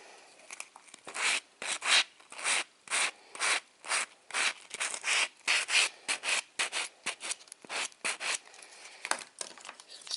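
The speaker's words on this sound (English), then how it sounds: "I'm just going to use my sanding block." Hand sanding of an acrylic heart design with a sanding block, a quiet, close rasping in quick back-and-forth strokes, about two per second, each a short gritty burst separated by brief pauses.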